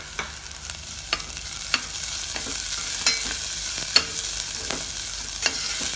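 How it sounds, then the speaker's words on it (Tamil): Onion, ginger and garlic sautéing in a pot for chicken soup, a close steady sizzle punctuated by regular sharp scrapes and taps of a stirring spoon. "ஒரு 1 நிமிஷம் வெங்காயம் நல்லா வறண்டட்டும். இஞ்சியும் பூண்டையும் சேர்த்துடலாம்."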